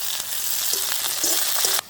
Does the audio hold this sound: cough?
no